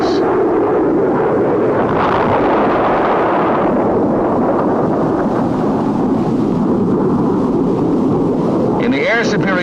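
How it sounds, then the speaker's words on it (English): Napalm dropped by an F-104 fighter jet bursts into a loud, rolling roar of fire that rumbles on continuously, with a muffled whooshing rise near the end. "Napalm, a part of the 104 weapon inventory, is used against enemy concentrations and similar targets."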